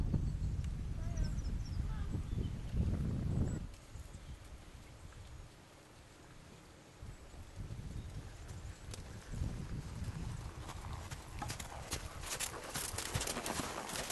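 Steady clip-clop of horse hooves at a walk, fairly close, with a rhythmic thudding that thins out briefly midway before resuming.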